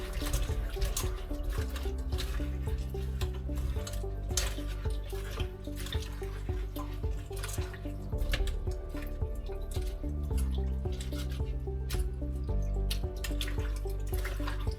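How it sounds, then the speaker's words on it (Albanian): Lukewarm water runs and splashes continuously while broad beans are rubbed and swished around in it, with drips and a steady low hum underneath. "I laj me ujë të vakët"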